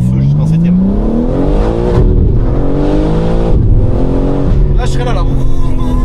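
A 1000-horsepower BMW pulling hard up through the gears, its engine note rising in loud sweeping climbs, dropping at each shift and climbing again, heard up close from inside with people talking over it.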